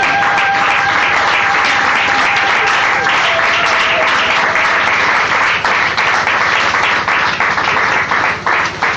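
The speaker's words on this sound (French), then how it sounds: "mettez la main dans vos mains" A church congregation in Kinshasa applauds continuously, dense loud clapping from many hands sustained for about nine seconds, with faint voices mixed into the crowd.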